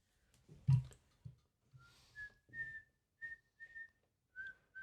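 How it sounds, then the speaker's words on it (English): A person whistles a simple tune in short, clear melodic phrases, fairly close and alone, outdoors near a cave on a cliff edge, with a few soft low thumps and rustles at the start. "I'm just whistling away."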